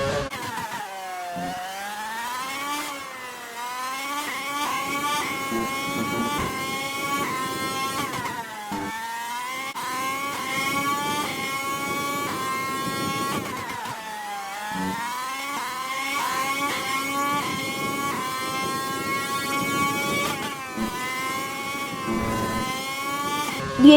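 Race car engine of a 2010 McLaren in a racing video game, a continuous high-pitched whine that climbs and dips through repeated upshifts and downshifts, steady and loud without talk.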